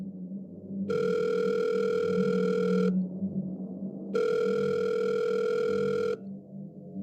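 A telephone rings twice, each long electronic tone lasting about two seconds with a pause between, clear and close in a quiet room.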